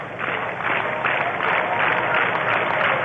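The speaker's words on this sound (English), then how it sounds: "now some unison clapping" Fans at a Winnipeg Goldeyes vs. Saint Paul Saints baseball game, sheltering under an overhang, clap in unison: a loud, even rhythm of crowd claps, roughly two per second.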